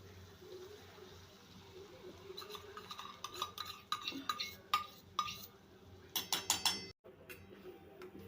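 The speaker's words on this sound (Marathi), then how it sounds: "हे बेसनचं बनवलेलं पातळ मिश्रण मी या कढईमध्ये टाकलेलं आहे।" A utensil stirs thin besan batter in a kadhai, with soft scraping and a series of light metallic clinks and taps growing busier toward the end, quiet and close with no talk.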